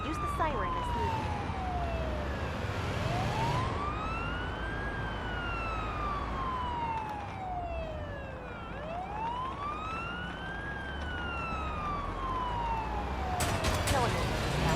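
Wailing ambulance siren from the paramedic driving game Ambulance Life: A Paramedic Simulator, slow rising and falling sweeps repeating steadily over engine and road rumble, loud and close throughout.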